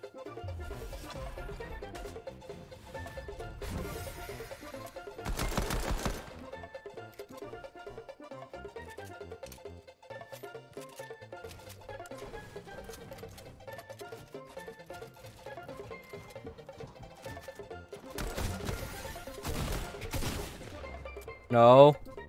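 Pistol shots in the Fortnite video game crack out in short bursts, with louder volleys around the early seconds, near the end and a sharp final shot, layered over background game music and effects.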